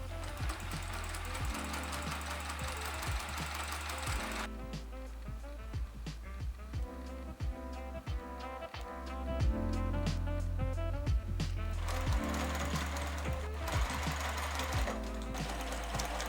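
A sewing machine stitches three folds into the edge of a fabric face mask, running in a steady rapid mechanical patter with a brief slower stretch midway, close and continuous.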